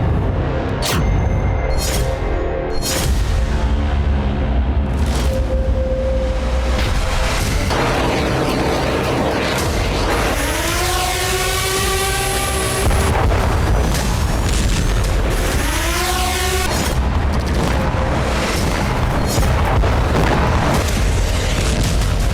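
Grad multiple rocket launchers fire in eastern Ukraine. Loud booms and rushing roars of rocket launches follow one another, with rising whooshing tones among continuous heavy rumbling.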